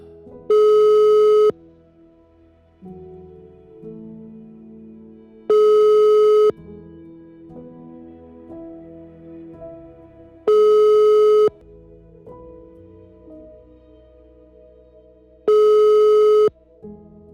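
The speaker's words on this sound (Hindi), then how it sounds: "फोन की घंटी कुछ देर तक बजती रही लेकिन किसी ने फोन ना उठाया।" A telephone rings unanswered, four loud electronic ring bursts spaced evenly about five seconds apart, with quiet soft tones filling the gaps between them.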